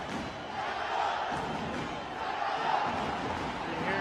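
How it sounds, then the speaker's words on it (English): El Salvador football fans in a Houston stadium crowd cheering after their team scores in a friendly against Canada, a broad, distant roar that swells and holds, with a commentator talking over it. "You hear cheers of El Salvador from the fans here"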